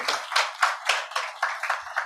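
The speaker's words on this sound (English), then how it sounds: "I think round of applause for them also." Clapping at a banking seminar on net-zero India: a short burst of about nine distinct, sharp claps from nearby, in an uneven rhythm with brief gaps, and no speech.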